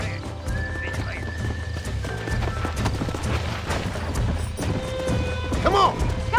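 Horse hooves clip-clop steadily in Red Dead Redemption while a horse whinnies and neighs several times, with a soft voice and other game sounds in the background.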